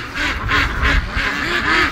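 Ducks quacking in a pen on a frozen winter morning, a rhythmic series of several loud nasal quacks close by, one after another.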